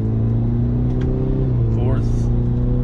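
2024 Cadillac CT5 Luxury with a 10-speed automatic accelerating, a steady engine drone shifting pitch as it moves through the gears, with someone talking over it.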